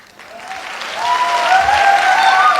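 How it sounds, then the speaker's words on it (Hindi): An audience applauds a performer at a live show, the clapping swelling quickly from quiet to loud and dense. Cheers and whistles rise over it. "धन्यवाद और तालियां दो इस मैडम को जिन्होंने आपका इतना एंटरटेनमेंट किया है"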